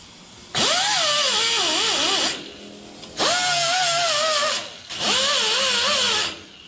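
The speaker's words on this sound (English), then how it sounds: "That's the best thing about using an air die grinder, is because you can regulate that." An air die grinder works on a 1955 Chevy body in three sustained bursts, each a loud high-pitched whine that wavers in speed as the throttle is feathered, separated by brief pauses.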